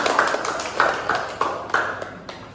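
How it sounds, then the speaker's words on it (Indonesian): Students in a classroom give a short round of applause for a classmate, a scattered burst of claps that comes in uneven pulses over a couple of seconds at moderate loudness. "tepuk tangan untuk Bang Dani"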